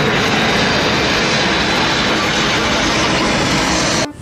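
A toy airplane giving off a loud, continuous engine roar, steady and close throughout before cutting off abruptly at the end.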